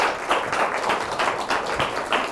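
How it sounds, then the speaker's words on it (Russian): Audience in a hall applauding to welcome television journalist Zhanna Agalakova, a steady wash of many hands clapping at close range with no talking. "под ваши аплодисменты я торжественно приглашаю ее в наш зал"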